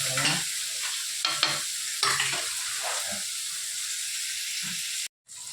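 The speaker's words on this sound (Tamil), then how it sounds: "தக்காளி இந்த அளவுக்கு வதங்கணும்" Tomatoes sauté and get stirred in a pan for a manathakkali vatha kuzhambu, close crackling sizzle with bursts of spatula scraping, steady throughout until a brief cutout near the end.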